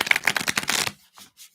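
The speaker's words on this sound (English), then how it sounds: "just shuffle these up." A quick riffle of cards being shuffled, a rapid flutter of snaps lasting under a second, followed by a couple of soft taps as the deck settles.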